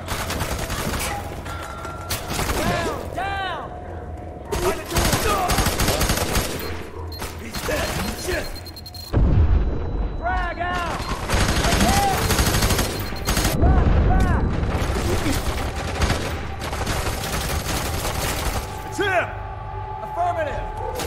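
Dense bursts of automatic gunfire and heavy shots in the video game Fear 3, a prison escape level, firing in repeated loud volleys across the whole stretch with shouted voices in between.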